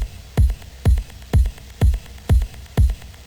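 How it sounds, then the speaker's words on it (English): Six evenly spaced, punchy kick drum hits in a four-on-the-floor pattern, tuned to A and processed with bitcrush and OTT in FL Studio for a lo-fi track, each thump loud, booming and gritty, with no voice. "The kicks sound like this."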